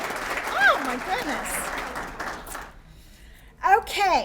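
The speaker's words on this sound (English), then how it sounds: "let's give all of these fabulous young women a round of applause" Audience applause for young women award nominees in Harford County, a moderate wash of clapping heard beneath someone talking, fading out as her voice continues alone.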